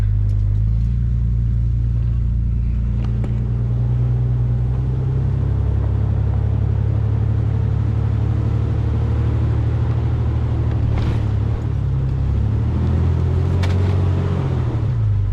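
A truck climbs a wet, muddy uphill track with a deep, steady engine rumble that holds throughout, broken by occasional faint knocks and splashes.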